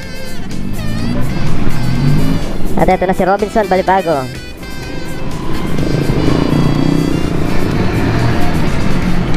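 Street traffic on Fields Avenue in Angeles City rumbles continuously, with car engines and motorcycles passing close by and a rising rev. Someone talks loudly over it throughout.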